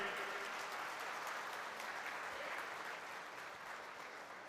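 An audience at a youth conference claps together in a steady, unbroken patter that sounds somewhat distant and soft, tapering gently toward the end.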